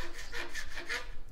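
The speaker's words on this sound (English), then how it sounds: "we're using a file." A hand file rasps across the cut end of 20 mm PVC conduit in quick back-and-forth strokes, a close, scratchy rubbing rhythm with about four strokes in rapid succession.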